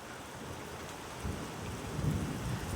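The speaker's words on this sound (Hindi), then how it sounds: "बहुत तेज बारिश है।" Heavy rain pouring down in a dense, steady hiss, with a low rumble swelling midway and loudest near the end; fairly quiet overall.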